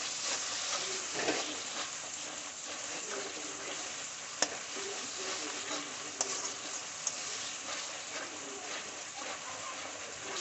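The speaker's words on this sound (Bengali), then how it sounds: "জিরে আর লঙ্কাটাকে দিয়ে আমি খুব ভালোভাবে তেলের সঙ্গে নেড়ে নেব।" Ground cumin and chili paste fry in hot oil while being stirred, giving a soft continuous sizzle with occasional spoon taps against the pan, close and moderate in level.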